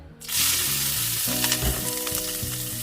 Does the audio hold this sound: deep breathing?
no